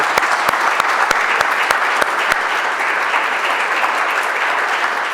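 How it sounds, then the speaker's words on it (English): Sustained applause from a lecture audience welcoming a guest of honor at an academic talk on historical ethnography, a dense steady wash of clapping filling the room at close range, with a few sharper individual claps standing out early on and no speech. "a big round of applause for our guest of honor."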